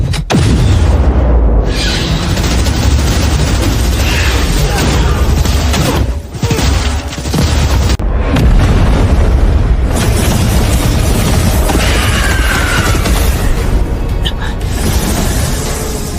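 Heavy weapons fire and explosions from an animated battle roar continuously, with loud booming blasts and dense rumbling bursts close up, while a voice shouts over the din.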